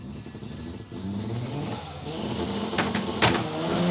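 A Toyota Corolla drag car at a raceway drag strip idles and revs in a rising engine roar, close and growing louder, with a sharp burst near the end.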